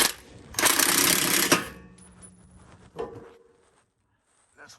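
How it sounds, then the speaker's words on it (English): An impact driver fitted with a bit, working on a supercharged Ford F150 train horn setup: a loud, harsh buzzing burst of about a second, then quieter clatter and a brief knock. "I got an impact with the bit."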